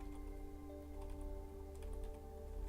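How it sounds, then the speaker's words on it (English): Soft, quick clicks of typing on a computer keyboard, fairly faint and steady throughout, over a constant electronic hum. "My typing."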